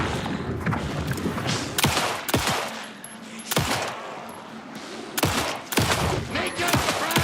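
Bursts of gunfire in Alan Wake 2 tear through the scene in several loud volleys separated by short pauses, with voices shouting between them.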